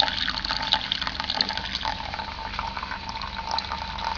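Distillate trickles from a homemade reflux still into a bucket: a thin, steady stream of liquid splashing softly and continuously, close by, with faint bubbling and no talking.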